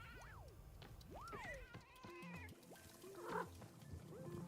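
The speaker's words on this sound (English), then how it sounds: "That radio is making cat noises." Cartoonish meowing cat noises come from a radio in the video game Wanderstop: rising and falling yowls over steady background game music, at moderate level.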